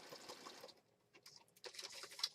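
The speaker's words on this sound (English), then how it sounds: "stitching away, stitching away." Sewing machine stitching a junk journal, heard in short bursts of quick, light needle patter with brief pauses between runs, fairly quiet and close.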